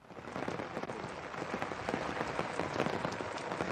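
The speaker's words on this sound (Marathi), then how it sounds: "तुम्ही मला पाहता की माझ्या पाठीमागून पाहता की कशा मोठ्या प्रमाणात पाऊस पडत आहे" Heavy rain falls steadily during a flood in Sangli district, a dense, even patter on surfaces that continues without a break, fairly quiet overall and with no voices.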